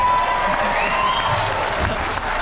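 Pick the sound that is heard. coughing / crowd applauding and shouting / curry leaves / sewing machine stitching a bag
crowd applauding and shouting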